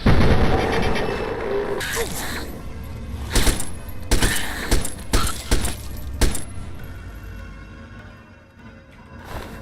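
Several sharp gunshots from a weapon in Fallout 3 crack out in an irregular burst through the middle, loud against a steady game background, with a talking voice present around them.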